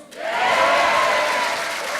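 Loud, sustained applause from a crowd at a Liberty Korea Party candidate launch rally for the June 13, 2018 local elections, cheering party leader Hong Joon-pyo; the clapping swells quickly and holds steady throughout.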